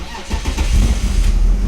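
A barn-find BMW E36 engine cranks and catches after sitting seven years, turning over with a loud, close, rough rumble that settles into a steady run.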